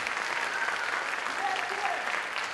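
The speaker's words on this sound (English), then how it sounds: "Let's give them another round of applause." Steady applause from the audience at a school talent show finals, honoring the judges: dense, even clapping filling the hall at moderate level with faint crowd murmur underneath.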